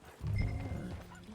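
A horse in the Red Dead Redemption 2 video game gives a short, close neigh or snort, quietly, about a second long with a rough, breathy texture.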